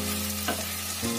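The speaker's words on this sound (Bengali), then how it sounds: "টমেটো পেস্টটা নেড়ে যেতে হবে যতক্ষণ না তেল বেরিয়ে আসছে।" Tomato paste sizzles in oil in a kadhai with a constant close frying hiss, broken by two brief scraping strokes of a spatula stirring it.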